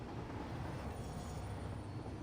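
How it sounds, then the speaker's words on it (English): Trains roll through a factory-building video game with a dense, steady rumble of wheels and carriages that never lets up, loud and continuous with no voices. "So many trains."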